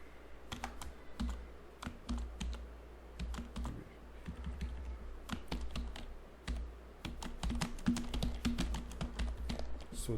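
Steady typing on a computer keyboard while entering text in Notepad++ on a Windows PC, a close, busy run of light key clicks with irregular rhythm and occasional louder strokes over a low room hum.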